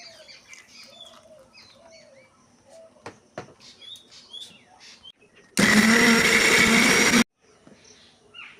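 An electric mixer grinder blends white mustard seeds and poppy seeds with a little water into a paste in a Bengali home kitchen, a loud steady whir lasting about a second and a half, with birds chirping softly before and after.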